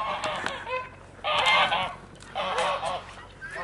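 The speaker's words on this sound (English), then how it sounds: "I think those are Toulouse geese" Toulouse geese on a farm with Berkshire pigs honk in two loud bursts of overlapping calls, nearby, with quieter honking between them and no talk.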